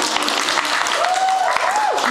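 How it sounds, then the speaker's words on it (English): Audience applause for Crystal Wright at The Makeup Show New York 2011, a short burst of loud clapping with a voice speaking over it. "You can applaud for Crystal, come on."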